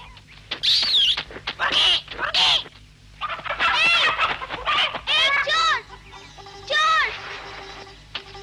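Cartoon chickens cluck in a lively run of bright, repeated calls that come in bursts with short pauses between them, loud and close.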